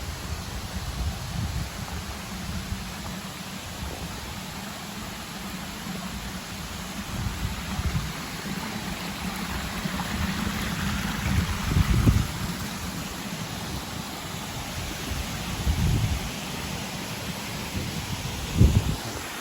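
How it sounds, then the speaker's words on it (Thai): Waterfall at Khlong Nam Lai in Kamphaeng Phet, a steady broadband rush of falling water, fairly close and continuous, with a few brief louder splashes or bumps and no talking. "เดี๋ยวมาดูใกล้ ๆ นะครับดูน้ำตกใกล้ๆ"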